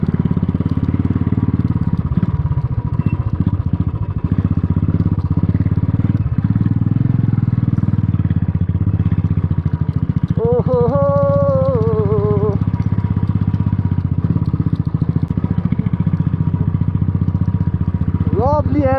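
A motorcycle climbs an uphill off-road dirt track, its engine droning steadily and close, with a rumbling low-mid tone that stays constant while brief horn-like tonal bursts rise above it partway through.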